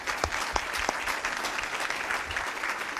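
An audience breaks into steady, full applause to congratulate a public library director on her election, a dense wash of many hands clapping at an even level throughout.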